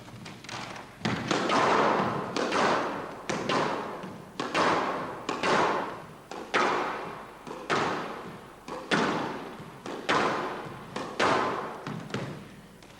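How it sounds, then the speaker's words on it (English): An object is struck hard against a wall over and over, giving more than a dozen heavy, close thuds in a steady, even rhythm. Each blow lands loud and separate, with no talking between them. "Just giving it a few hard hits against the wall for a few minutes"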